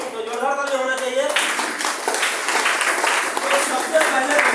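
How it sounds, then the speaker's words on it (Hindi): An audience claps loudly and steadily at a motivational talk, the dense clapping starting after a brief sung or spoken tone and continuing without a break. "तो जोरदार ताली होना चाहिए।"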